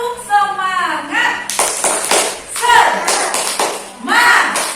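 A class of young children claps a rhythmic spirit clap, bursts of sharp hand claps in a set pattern, woven between sung and chanted voices of an adult and kids.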